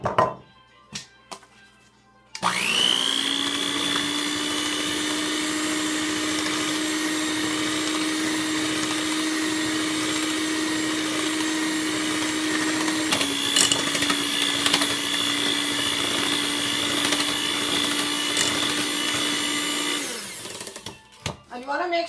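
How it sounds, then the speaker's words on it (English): Blender running steadily for about eighteen seconds while mixing Trinidad sponge cake batter with cinnamon spice, a loud continuous motor whine with a slight pitch shift midway, starting and stopping abruptly. "And you keep on blending."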